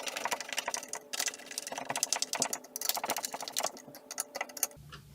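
Pocket screws being driven and tightened into a plywood and oak loft bed frame, giving a dense run of rapid clicking and ratcheting bursts close by, with a brief low drone at the very end.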